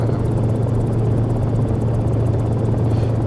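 A Vskylabs Cicare 8 helicopter hovering in X-Plane 11 gives a steady, close rotor thrum with a continuous low engine drone throughout, with no talk.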